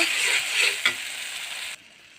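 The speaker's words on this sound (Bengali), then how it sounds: "এভাবে আমি ভালো করে কষে নেব" Ginger and cumin spice pastes frying in hot oil, a bright steady sizzle with a brief stirring scrape partway through, then cut off abruptly into quiet.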